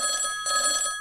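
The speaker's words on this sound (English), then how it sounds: "I think I can hear the phone ringing" A telephone rings in a brief, bright electronic trill, two short pulses heard alone.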